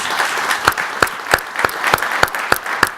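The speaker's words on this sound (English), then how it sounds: "Get a big applause for Tom Vita." Conference audience gives a round of applause, sparse individual claps in an uneven rhythm standing out over a softer wash of clapping, fairly near.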